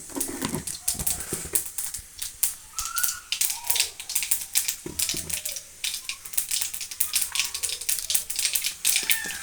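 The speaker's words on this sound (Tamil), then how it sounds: "கடுகு பொரிஞ்ச பிறகு நான் உளுத்தம்பருப்பு கொஞ்சம் ஆட் பண்ணிக்கேன் ஃப்ளேவருக்காக" Urad dal crackling in hot oil alongside spluttered mustard seeds, a dense, busy sizzle with rapid sharp pops scattered throughout, close and fairly loud.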